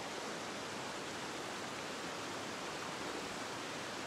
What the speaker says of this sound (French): La petite chute ici qui descend.